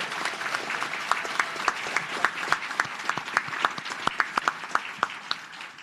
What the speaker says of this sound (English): I want to ask the crowd to give a round of applause to Chairwoman Fudge for bringing this hearing to Cleveland, Ohio today.